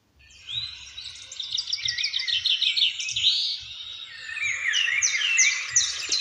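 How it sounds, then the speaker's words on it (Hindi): Birds chirping and trilling continuously, several high twittering calls overlapping at moderate distance, with a faint low thumping underneath. "इस तरह से आपको बर्ड के चहचहाने की आवाज़ आ सकती है।"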